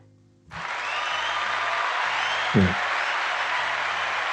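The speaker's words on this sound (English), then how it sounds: "just gonna let that let them get the applause." An audience breaks into applause after a short quiet moment, sustained and fairly loud clapping from a crowd while a voice speaks intermittently underneath.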